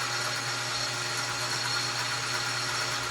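A metal lathe spins a piston in a workshop, giving a steady, even mechanical whir with a constant low hum, close and unbroken throughout.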